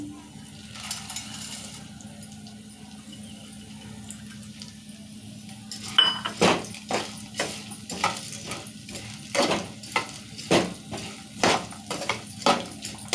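Roasted gram tossed and stirred in a frying pan, a series of light clattering, rattling strikes over a steady background hiss, irregular and close, without speech.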